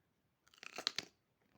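A Mexican hot pepper is bitten and chewed close to the mic, with a quick burst of wet crunching chews lasting about half a second, then near silence.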